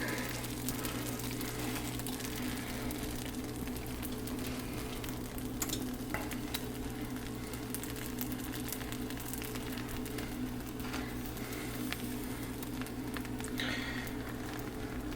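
A flour tortilla sizzles in a hot pan, giving a soft, steady crackling hiss that continues unbroken throughout, with no voices.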